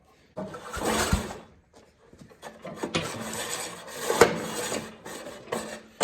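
Someone tugs the starter pull cord on a rear tine tiller that has low compression and won't start, giving raspy, rubbing zips in short bursts with quiet gaps between pulls.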